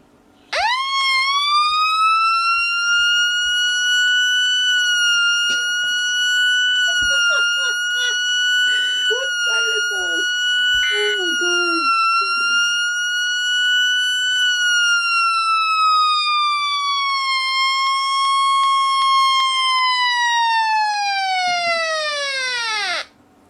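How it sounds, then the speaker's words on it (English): A loud, high-pitched electronic siren from a Midland 74-105XL CB radio wails continuously for about twenty seconds, holding a steady tone with slight pitch bends before cutting off abruptly. "one of the highest pitched sirens I've ever heard from any Midland radio"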